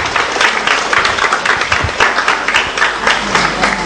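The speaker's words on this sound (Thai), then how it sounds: "ผมขอเสียงปรบมือต้อนรับศาสตราจารย์พิเศษดร." An audience claps to welcome a visiting professor onto the stage at a public lecture on Thailand's constitution and referendum, with loud, close applause in uneven surges throughout.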